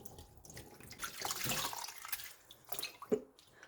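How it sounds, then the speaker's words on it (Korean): Boiled soybean leaves being rinsed in water, a step in making pickled soybean leaf kimchi: close splashing and trickling water rises and falls in uneven surges, ending with a brief sharp clink. "잘 삶아진 콩잎은요, 이렇게 한 서너 번 정도, 한 세 번 정도 헹궈 주세요."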